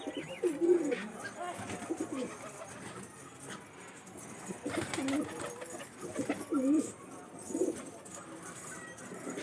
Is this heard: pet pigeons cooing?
yes